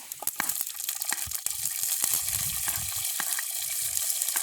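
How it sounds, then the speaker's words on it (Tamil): Chopped onions drop into hot oil with fenugreek in a pan and set off a close, steady sizzle broken by brief crackles and stirring clinks, with no voices. "இப்போ நாங்கள் வெட்டி வச்சிருக்கிற வெங்காயத்தை போடுவோம்"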